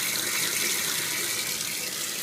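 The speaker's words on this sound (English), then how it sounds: "when we turn the water on, the sink water from the sink will flow out the end here" Water runs steadily from a sink faucet to start an aquarium water-change siphon hose, a continuous bright hiss with even loudness throughout and no voices.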